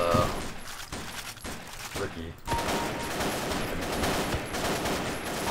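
Rapid bursts of automatic gunfire in a Half-Life mod shooter crackle loud and close, broken by short gaps, with someone talking over the shooting.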